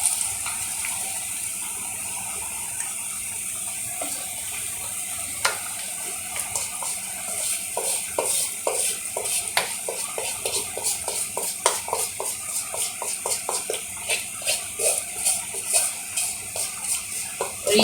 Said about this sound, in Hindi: ये देखिए मैं तड़का अंदर डाल रही हूँ।